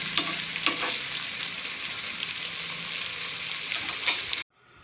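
Sliced onions fry in hot oil until brown for a vegetable soya chaap biryani, giving a steady loud sizzle with scattered crackles and stirring clinks before cutting out abruptly at the end.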